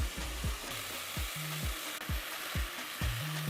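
Onions, tomato and peppers fry in oil in a pan, a constant close sizzle broken by repeated scraping strokes of a utensil stirring the vegetables.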